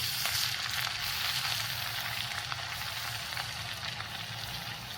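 Rice chakli dough crackles and sizzles evenly in hot oil, a steady, moderately quiet frying noise with no voices.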